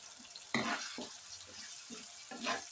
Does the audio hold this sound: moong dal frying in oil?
yes